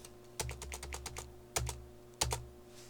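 Keys on a computer keyboard clack quietly in quick clusters, with three heavier single presses standing out, close and alone in a quiet room.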